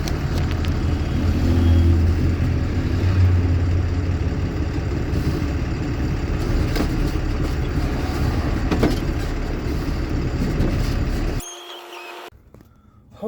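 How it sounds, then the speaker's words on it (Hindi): A car carrier truck maneuvers into a hotel parking area, its engine rumbling steadily and fairly close for about eleven seconds before cutting out abruptly, leaving near silence. "आ जाओ, गाड़ी को लेते हैं पार्किंग में"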